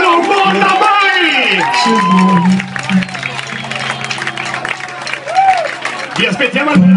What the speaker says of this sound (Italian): Signori, voglio sentire un applauso per questo staff